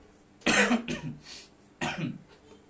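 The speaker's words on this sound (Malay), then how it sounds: "Hari ni saya batuk sikit lah." A few harsh, close coughs break out in short bursts, two close together and then one more after a pause, with quiet between them.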